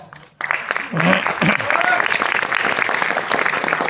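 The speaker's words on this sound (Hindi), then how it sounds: "अब मैं आपको बताता हूं आपकी तालियां इतनी धीरे क्यों पड़ गई" Applause from an audience at a direct selling seminar, a steady patter of clapping that builds after a brief pause and holds on, with voices faintly mixed in beneath.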